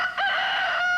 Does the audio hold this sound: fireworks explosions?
no